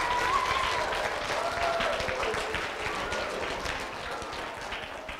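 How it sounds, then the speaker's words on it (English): A room full of people at a university science event for kids gives sustained applause, a dense, even patter of clapping that holds for several seconds and fades slightly toward the end. "give Dr. Peter Liu a resounding round of applause"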